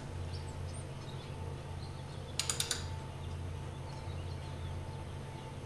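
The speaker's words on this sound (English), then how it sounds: "Now we will turn the crankshaft some more so we can adjust the final valve." Hand-turning the crankshaft of an F-134 Hurricane engine gives a quick run of four sharp mechanical clicks over a low steady hum, close and brief, without talk.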